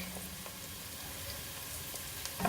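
Onions and garlic frying in a pan for marinara sauce, a faint, steady low sizzle running without a break and no talking.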